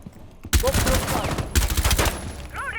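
Gunfire in Rainbow Six Siege bursts in loud close volleys, a sharp shot at the start followed by rapid cracks and another heavy burst midway, with brief ricochet-like whines.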